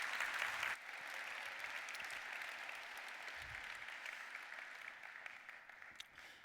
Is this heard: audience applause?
yes